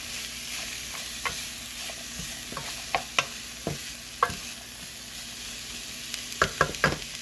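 Chopped carrots and vegetables sautéing in a pot for chicken and vegetable soup, with a low steady sizzle broken by occasional spoon scrapes and taps, clustered near the end.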